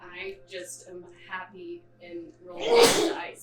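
A person speaks, then a single sharp, loud sneeze bursts out near the microphone at the end.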